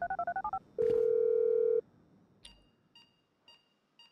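A phone in GTA 5 dials a detonator: a quick run of rapid keypad tones, then a long steady beep, followed by several short, sparse electronic chirps.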